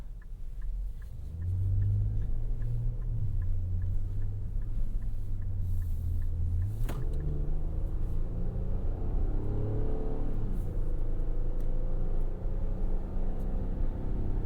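A 2024 Nissan Pathfinder towing on a four-lane road accelerates with a steady, loud engine drone and rising tone, a continuous rumble of road and wind noise underneath.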